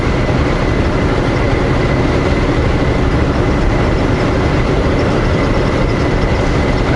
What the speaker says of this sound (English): Might be another train parked there.